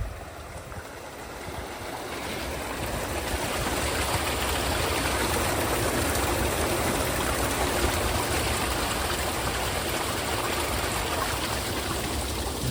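Water pelting down a weir overshoot channel on an icy day, a steady, loud, broadband roar that swells slightly after the first couple of seconds and then holds constant with no voices.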